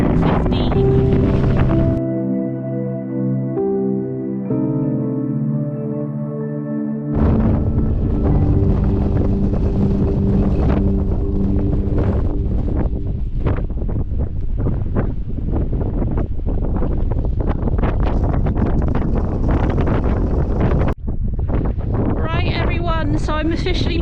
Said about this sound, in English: Very windy up top, so I've not hung around too long.